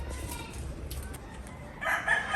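A backyard flock of chickens with a rooster in a rural Philippine province, with a brief clucking burst near the end over soft ambient noise.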